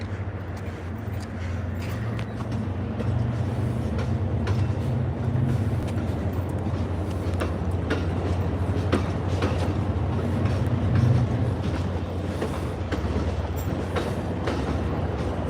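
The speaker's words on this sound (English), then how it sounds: "the Lakeshore Limited will depart for Chicago Union Station" Amtrak's Lakeshore Limited passenger train departs Boston's South Station for Chicago with a continuous heavy rumble, engine drone and rolling wheel clatter, loud and close throughout.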